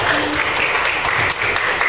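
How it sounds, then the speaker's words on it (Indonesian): Brief clapping from a classroom of students, a short burst of scattered hands at close range with some children's voices mixed underneath. "Tepuk tangan dong."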